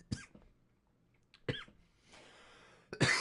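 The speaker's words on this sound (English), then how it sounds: "my apologies for coughing" A person coughs after vaping: three harsh, close bursts spaced about a second and a half apart, with a raspy breath between them.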